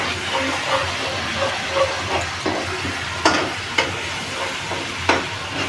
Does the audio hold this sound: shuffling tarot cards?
no